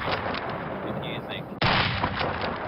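Gunfire in a competitive online shooter game, with bursts of rapid shots crackling under a continuous hiss; one sharp loud report hits midway, then more firing follows.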